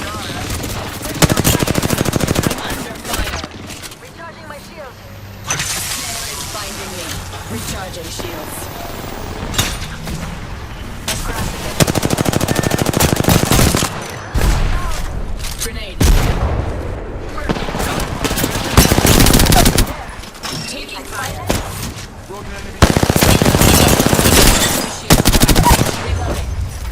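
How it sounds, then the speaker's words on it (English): Gunfire in the video game Apex Legends, with loud bursts of automatic weapon fire and booming shots in repeated volleys separated by short quieter gaps. A voice speaks now and then over the fighting. "I'm under fire."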